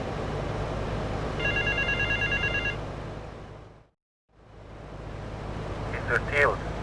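A payphone rings in GTA Vice City, a short run of electronic ring pulses over steady engine and street noise, followed by a brief dropout and more traffic with a faint chirp.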